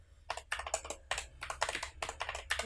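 Rapid, uneven keystrokes clatter on a computer keyboard as a prompt is entered for an ebook introduction, close and clear with no voices, the bursts of clicks running continuously throughout.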